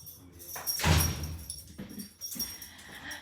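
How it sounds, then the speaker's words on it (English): A dog comes in through a house door, with a burst of door and movement noise, some light scuffling and soft dog sounds, and faint background room noise. "I'm gonna go let my dog in"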